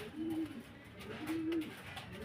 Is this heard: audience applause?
no